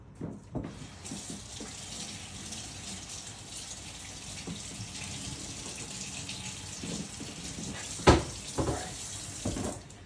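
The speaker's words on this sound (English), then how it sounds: "Now I'm going to wash my hands." Hands being washed under a running kitchen tap, a steady close stream of water with a few splashing bursts near the end.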